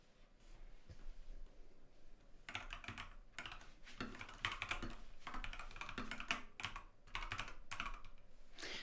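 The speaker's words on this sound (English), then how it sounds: "Sorry, that's just me typing away." Typing on a computer keyboard, rapid irregular bursts of key clicks close to the microphone, with brief pauses between runs.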